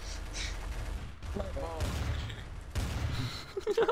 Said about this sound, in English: I'm shooting the dick.